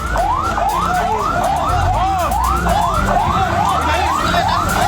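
A loud wailing fire engine siren cycles steadily up and down, close by and continuous, with traffic noise underneath, as fire engines head to a house fire.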